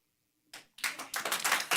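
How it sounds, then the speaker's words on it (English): Audience at a Carson City school board meeting bursting into clapping after a quiet pause, a brief smattering followed by fuller, close applause that builds. "It's not a football game, don't clap."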